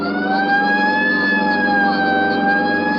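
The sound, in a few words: police car siren, radio drama sound effect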